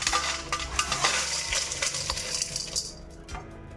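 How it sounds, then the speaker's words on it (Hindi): Crispy fried sev is handled and broken by hand in a metal utensil, giving dense, brittle crunching and rattling clicks that thin out near the end. "आप लोग सेव की साउंड सुनिए, कितनी क्रिस्पी और कितनी अच्छी बन के सेव तैयार हुई है।"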